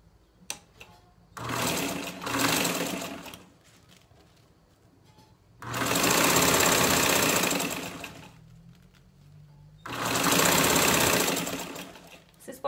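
A sewing machine stitching bias binding onto a fabric pouch runs in three sustained bursts of a few seconds each, loud and close, with quieter pauses between where faint handling is audible.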